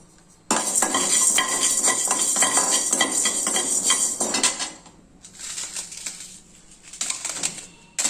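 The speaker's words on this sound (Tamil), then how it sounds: "இப்போ நாம் இந்த கடலைப்பருப்பு உளுந்தம்பருப்பு மல்லி வறுத்துக்கலாம்" Chana dal, urad dal and coriander seeds dry roasting in a pan give a dense, rapid rattling and clinking of stirring for about four seconds, then softer intermittent scraping bursts, with no talk.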